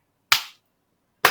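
Two sharp, loud hand claps spaced about a second apart, the first with a short decaying tail, given as a deliberate slow clap of appreciation.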